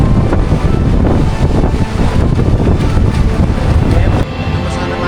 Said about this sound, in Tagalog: Grabe naman kasi yung hangin, as in, oh.